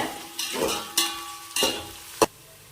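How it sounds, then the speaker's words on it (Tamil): Onions sauté with cardamom in a pot for chicken dum biryani, short bursts of sizzling as a spoon stirs them, about four distinct stirring strokes over a low background hiss. "பொன்னிறமா வர வரைக்கும் வெங்காயத்தை நல்லா வதக்கிக்கோங்க"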